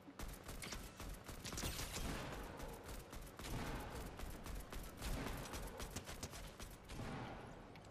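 Gunfire in the video game Fortnite crackles almost without pause: dense bursts of rapid shots, moderately loud and continuous, with no talking over them.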